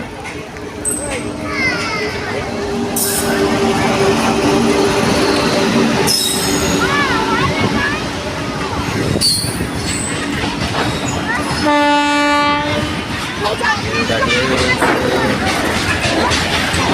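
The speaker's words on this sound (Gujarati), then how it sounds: "હાલો મિત્રો જો રેલગાડી આવે છે" A train rumbles past railway tracks beside a roadside Meldi Ma shrine, with loud, continuous clattering wheels and squeals, and a long blast of the horn two-thirds through, while people talk nearby.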